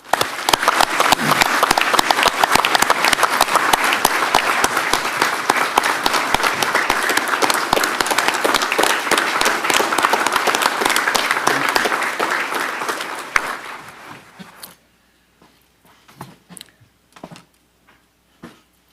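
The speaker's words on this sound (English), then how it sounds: "would like to give a round of applause to all of the employees of Leon County government" Loud, sustained applause fills a county commissioners meeting room in honour of Leon County government employees, dense clapping for about fourteen seconds before fading to a few scattered claps and quiet.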